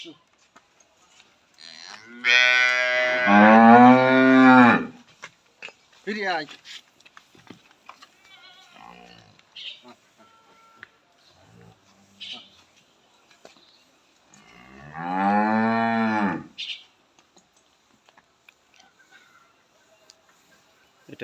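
A Friesian hybrid cow and her newborn bull calf at a farm in Jessore, with two loud, drawn-out moos separated by a quiet stretch, and someone talking in short bursts in between.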